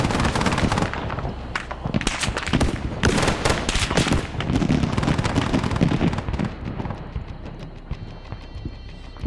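Gunfire and the firing of an SPG-9 recoilless rifle in a military video game: a dense, loud barrage of overlapping shots and heavy reports that thins out toward the end.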